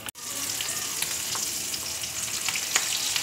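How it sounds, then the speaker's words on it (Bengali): Twisted rolls hit hot oil with a steady, close sizzle that runs continuously, marked by small spitting pops and crackles. "তেলটা দেখো গরম হয়ে গেছে। এবার আমি রোলগুলো দিয়ে দিচ্ছি।"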